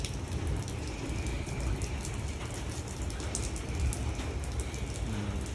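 Steady rain falls on a Cambodian village, a dense, even hiss of drops on surfaces that holds at the same level throughout, with no voices over it.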